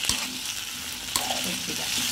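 Potatoes and onions frying in oil give a steady close sizzle with a few sharp scrapes and stirring clicks, and no one speaks over it.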